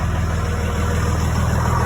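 A steady, loud diesel engine idling close by after a cold start, with an even low rumble and rattly clatter that holds without change throughout.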